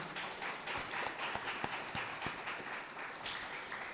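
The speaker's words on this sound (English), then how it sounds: "can we give George a big round of applause, please?" A school speech day audience of pupils and parents gives a round of applause for an absent award winner, a quiet, even wash of many hands clapping from a distance, with no talk over it.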